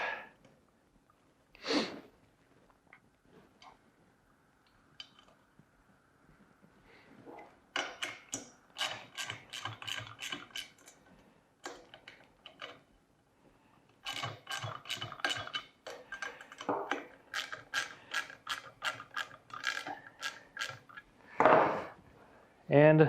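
Nuts and washers being hand-tightened onto a CycloShine 3.0 frame make bursts of close, rapid metallic clicking and ratcheting, separated by quiet pauses and a few louder knocks.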